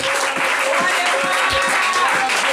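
A church congregation applauds loudly in praise, a dense, continuous wash of clapping from many hands that fills the room, with cheering voices mixed in.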